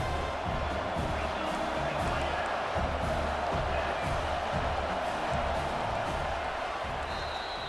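Stadium crowd at an Alabama vs Texas A&M game in EA Sports College Football 26 gives a constant, loud roar of many voices filling the whole stretch without letup.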